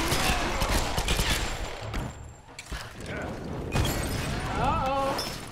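Enemies firing guns in Tomb Raider (2013): rapid bursts of gunfire mixed with mechanical clatter and other action noise, loud and continuous across the scene.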